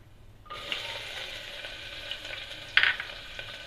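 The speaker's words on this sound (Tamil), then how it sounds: "நெக்ஸ்ட் வெங்காயம் ஆட் பண்ணிக்கிறேன்." Onions are added to hot oil with bay leaf and whole spices for a mutton curry, setting off a sudden, close sizzle that holds steady, broken by a single brief clink partway through.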